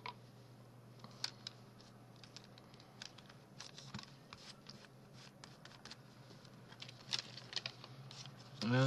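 Scissors snip fussily around a paper cutout for an art project, a run of small crisp clicks and rustles at close range, irregular and fairly quiet, with a louder handling rustle at the very end.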